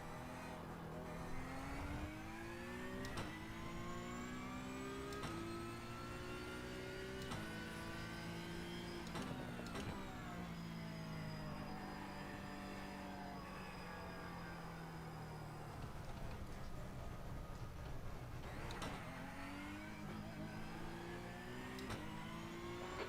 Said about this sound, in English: I love the way the Porsche sounds